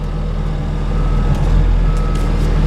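A heavy machine fitted with pallet forks idles and rumbles steadily close by, with faint intermittent reversing beeps above the engine drone outdoors on a cold, windy day.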